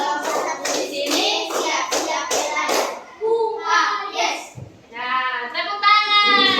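Children clap in a primary school classroom, short bursts of rhythmic hand claps in the first half, then young voices and chanting take over with more scattered clapping.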